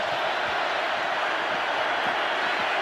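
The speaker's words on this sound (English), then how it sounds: "crowd in full throat right now" A stadium crowd roaring continuously at a Raiders versus Chargers NFL overtime game on third down, a dense, distant wall of cheering with no pauses.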